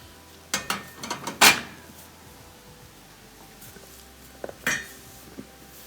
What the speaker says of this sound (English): So we're going to put these drip pans back in.